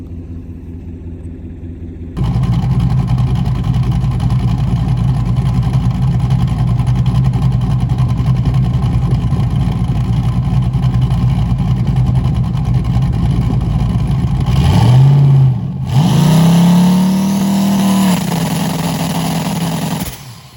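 A drag car with a new SBE 6.0 engine at North Florida Motorplex idles with a loud, steady rumble, then revs sharply twice during a two-step launch control check at night testing, the pitch climbing and falling close by.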